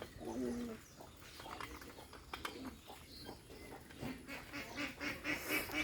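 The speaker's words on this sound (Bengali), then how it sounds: "এখন আমি আপনাদের দেখাবো রাজশাহী গিরিবাজের গণবাজি কবুতর আমি ছাড়বো।" Rajshahi Giribaz pigeons being let loose outdoors, with soft cooing and bird calls plus scattered wing flutters and rustling bursts building toward the end, moderately close.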